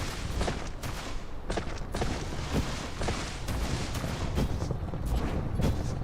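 Turrets firing at aliens in the Dyson Sphere Program video game, a rapid, continuous stream of gunfire bursts and booming shots at close range, with no pauses.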